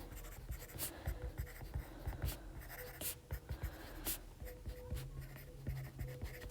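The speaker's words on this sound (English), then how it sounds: "Let me write it like that, actually." A pen or marker scratches and taps across a surface while math notes on prisms and volume are written out, a close, steady run of short strokes with brief pauses and no talking.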